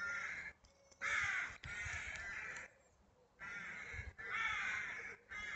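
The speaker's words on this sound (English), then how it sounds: "Noisy birds." Several crows caw loudly and repeatedly in harsh bursts, separated by short quieter gaps with only faint background noise.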